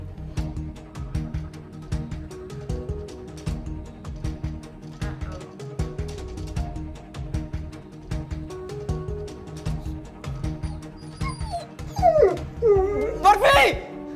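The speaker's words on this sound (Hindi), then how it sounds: "अरे यार मेरे घर में कुत्ता आ गया भाई" A dog whimpers through a stretch of music, then near the end lets out a few sharp, high yips close by. People talk over the sounds.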